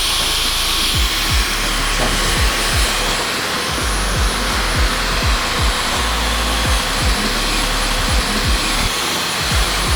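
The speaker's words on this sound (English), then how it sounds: "You can hear it powering up, doing some extra work in this heavy area." A Dyson V15 Detect cordless vacuum cleaner runs at a loud, steady roar as it powers up over heavy dirt, with a rapid series of short clicks and knocks from debris or the head moving over the floor.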